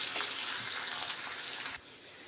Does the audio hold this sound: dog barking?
no